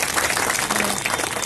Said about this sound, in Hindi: इसके लिए मैं आप सब लोगों से कहूंगा एक बार जोरदार ताली बजाकर निकल देंगे